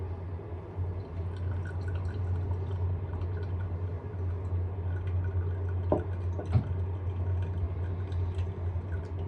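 Water poured over ground coffee in a pour-over brewer, a soft steady trickle with a low hum beneath it and a couple of sharper drips or clinks near the end, close and fairly quiet.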